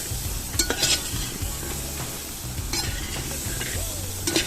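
Spicy Kerala-style pickle mixture is stirred in a frying pan, with a steady sizzle of frying under scraping and clinking from the stirring and no voices.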